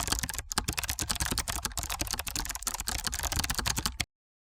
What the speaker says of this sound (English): Here you will type in your code.